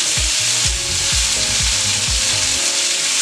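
Loud, steady sizzling of pork strips stir-frying in oil in a hot pan, with occasional thumps and scrapes of stirring underneath.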